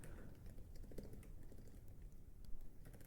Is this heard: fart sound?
no